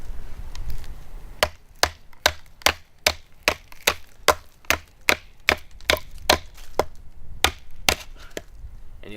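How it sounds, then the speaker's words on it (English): A Mora Companion knife is batoned through dense wood, with a long series of sharp, evenly spaced wooden knocks, close and distinct, about a dozen strikes in steady rhythm after a quieter start. "I'm using right on the tip of this blade to baton through here"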